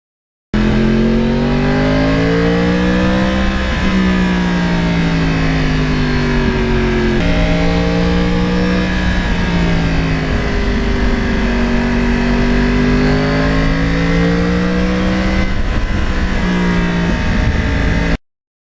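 A 2009 Yamaha R1 crossplane sport motorcycle engine revs loud and close for a long stretch, its pitch climbing and falling through repeated throttle swells with no pauses.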